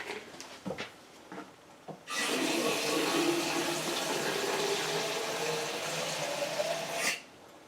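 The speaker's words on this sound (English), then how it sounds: "we're gonna add some water, you guys" Water poured from an emptied heavy whipping cream bottle into a cooking dish, a loud steady gurgling stream lasting about five seconds after a few light clinks and taps, close by, no voices.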